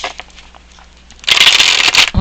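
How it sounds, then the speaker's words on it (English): A tarot card deck being shuffled, a brief faint riffle of cards followed by a loud, close, sustained burst of shuffling papery card noise in the second half. "Just one more shuffle."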